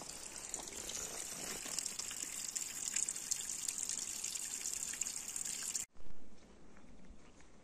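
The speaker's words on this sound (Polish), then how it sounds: "Woda sobie płynie." Steady murmur of flowing water from a stream on a June botanical outing, a continuous hiss with a broad bright wash that runs evenly, then drops abruptly to a quieter, softer flow near the end.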